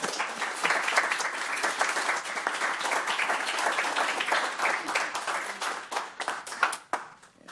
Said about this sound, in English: That was a big round of applause and much deserved for Chief John Fitzgerald